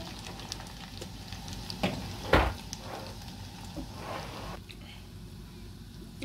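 Peanuts fry in hot oil with a steady crackling sizzle, punctuated by a few sharper pops and stirring clinks, while a voice speaks intermittently over the cooking noise.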